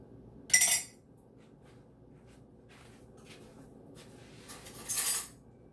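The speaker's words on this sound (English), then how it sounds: "I'm going to clean a tablespoon" A tablespoon clinks against dishes as it is cleaned during coleslaw preparation, giving two short bright metallic clatters, one near the start and one near the end, with quiet kitchen background between.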